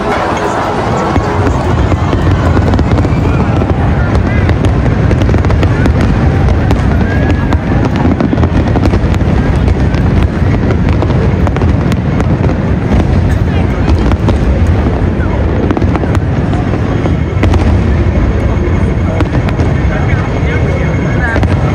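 Hong Kong National Day fireworks, a continuous loud barrage of booms and crackles with a busy rumbling background, with crowd voices talking throughout.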